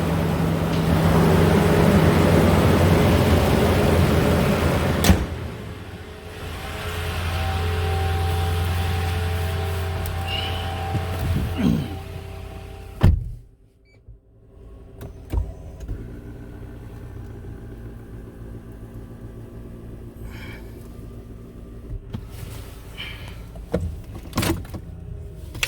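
A garage door motor runs with a steady, loud mechanical rumble for the first several seconds, ending in a clunk, followed by quieter car and cabin sounds.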